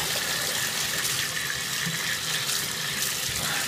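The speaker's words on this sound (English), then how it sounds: "Get my hands washed off so I can go through it" Tap water runs steadily into a sink while hands are rinsed clean of paintball paint, a continuous close hiss with no talking.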